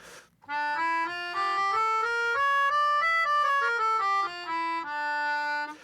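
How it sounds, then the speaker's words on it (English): A melodica plays a slow harmonic minor scale-like melody of sustained reedy notes, climbing and then descending, with no voices. "I have a melodica with me so I can play it for you."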